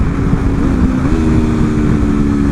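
A 2024 Aprilia RSV4 V4 sport motorcycle engine at an Americade demo ride hums steadily nearby, its droning tone stepping up in pitch midway as the revs rise.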